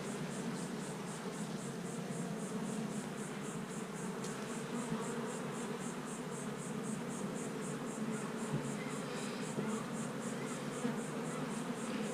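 Carniolan honey bees buzz at an open hive in a dense, steady hum, with individual bees droning close by over the continuous swarm, moderately quiet and uninterrupted throughout.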